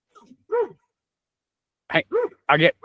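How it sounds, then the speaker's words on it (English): Dogs bark in a few sharp, close bursts: one yelp near the start, then a quick run of three barks after a pause, loud against a quiet room. "my dogs are going crazy"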